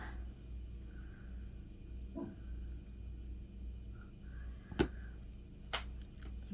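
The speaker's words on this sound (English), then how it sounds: "Hear my dog growling in the background." A pet dog growls in the background while neighbours do construction nearby, low faint rumbling growls with a few whiny tonal yips scattered through and a couple of sharper knocks from the building work.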